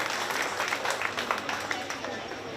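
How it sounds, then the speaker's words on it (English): An audience at a county fair 4-H goat show claps in a steady, dense wash of applause from the ringside crowd, filling the whole moment without a break. "let's give all three of these exhibitors a big round of applause for bringing out their projects."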